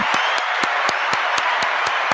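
A studio audience on a dating show gives a standing ovation: a dense, loud wash of clapping runs throughout, with sharp accented claps falling on an even, quick beat.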